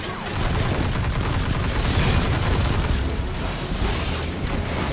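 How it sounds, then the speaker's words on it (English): Continuous gunfire aimed at the player in the shooter game Destiny 2, a dense, busy clatter of shots and impacts that keeps a steady loud level throughout, with no clear voices. "somebody was shooting me from over there"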